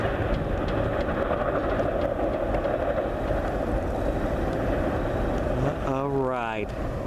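A CN freight train led by MEI-rebuilt Tier 4 ET44AC locomotive 3132 rumbles past north of Ladysmith, a loud, continuous roar throughout, with a brief voice rising near the end.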